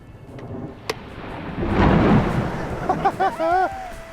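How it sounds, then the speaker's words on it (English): Thunder from a storm rolls over a golf course, a long deep rumble that swells and fades, followed by a person talking nearby. "hopefully a quick storm coming through here"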